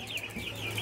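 Nine-day-old broiler chicks in a cage farm give short, bright clucks and peeps in quick succession, close and clear against a low steady hum.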